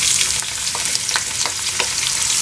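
Onions fry in a pot of heated table oil and olive oil for shakshuka, a loud, continuous close sizzle broken by a few sharp crackles and light stirring scrapes.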